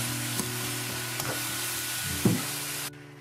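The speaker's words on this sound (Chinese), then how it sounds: "然后再下入我们的萝卜条，快速的把它们翻炒在一起" Radish strips are stir-fried with lamb and cumin in a wok, a steady, close sizzle broken by a few scraping tosses. The sizzle cuts off abruptly just before the end.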